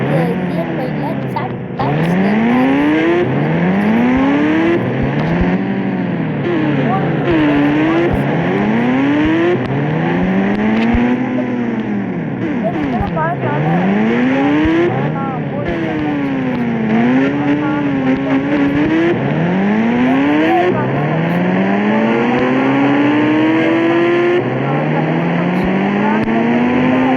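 Motorbike engine in the game Indian Bike Driving, revving up again and again in rising sweeps as it climbs through the gears, loud and close, with a person talking over it.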